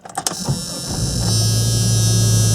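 A 1995 Jeep Cherokee engine cranks with a few quick starter pulses, catches and settles into a loud, steady idle, recorded close with no talking.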